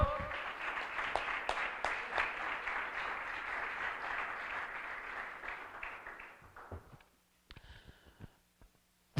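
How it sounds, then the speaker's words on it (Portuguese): A church congregation claps for several seconds in sustained applause that gradually thins and fades out, followed by a few scattered claps and faint sounds near the end. "Um salve de palmas ao Senhor."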